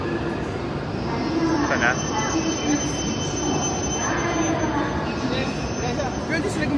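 A train waits at a station on a night-rain day bound for Gala-Yuzawa, its steady rumbling hum filling the space with faint squeals, while a person speaks briefly over it.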